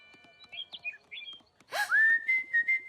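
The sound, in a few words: small bird chirping and whistling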